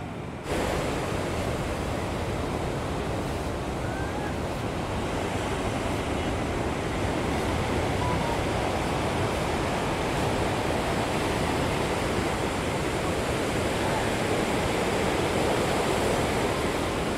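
Ocean surf rolling onto a beach at night at Vizag, a steady broadband roar of breaking waves that stays loud and unbroken throughout, with no voices.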